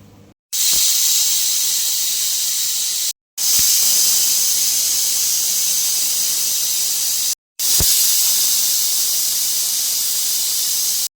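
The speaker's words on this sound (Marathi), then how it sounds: "कमी गॅसवरती 2-3 कुकरच्या शिट्ट्या काढून घ्यायच्या आहेत." A pressure cooker boiling whole potatoes on low gas lets out three long, loud hissing whistles, each lasting a few seconds and separated by brief silences.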